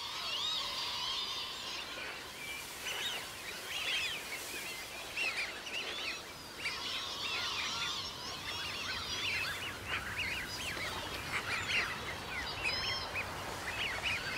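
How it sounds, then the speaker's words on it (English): A flock of lapwings and Eurasian wigeons calls across wintering lowland wetlands, with overlapping whistles and chirps that rise and fall continuously at moderate distance over a soft background hiss. "Groups of lapwings and Eurasian widgeons have gathered."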